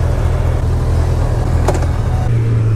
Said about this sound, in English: we're riding the CB1000R, the new fancy looking 2018 edition